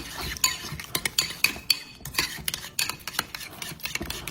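A spoon stirs meatloaf sauce made with red wine vinegar in a bowl, giving a quick series of close clinks and scrapes in an uneven rhythm, with no talking.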